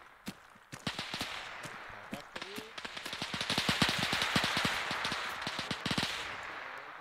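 Close, sharp gunshots crack in irregular bursts from a military simulation in Arma 3, building into rapid fire over a rising background rumble, with faint voices underneath.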